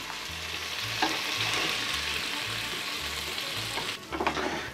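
Chicken pieces for biryani sizzle steadily in hot oil while they are lifted out, with spoon scrapes and clinks punctuating the continuous frying hiss, and a brief louder burst of sizzling near the end.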